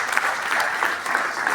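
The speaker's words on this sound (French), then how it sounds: "Donc, on peut encore applaudir pour eux." A hall audience at a children's storytelling and riddle workshop showcase claps for the young performers, a brief burst of fairly close, dense applause.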